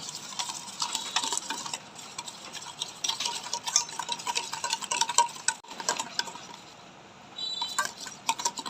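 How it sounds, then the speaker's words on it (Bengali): Egg and other batter ingredients are stirred in a bowl, giving rhythmic scraping and light clinking strokes up close, with a brief pause near the end. "উপকরণগুলো আমি ভালো করে মিশিয়ে নেব"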